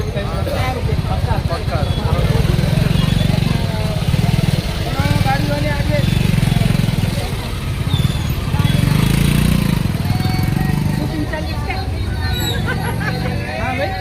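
A crowded Tuesday market in Ahilyanagar: a dense babble of many voices with motorcycle engines rising and falling repeatedly as bikes pass nearby.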